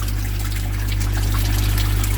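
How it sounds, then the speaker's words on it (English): Water from a pump running through a valve, a steady close hiss and trickle of flow with a constant low hum beneath, continuous and unbroken, with no talking. "I'm going to try and show you a demonstration of the flow of my water."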